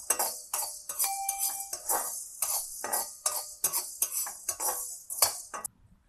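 Black peppercorns dry-roast in a pan while a spoon stirs them, giving a steady run of close scraping and rattling strokes with light metallic clinks, ending abruptly.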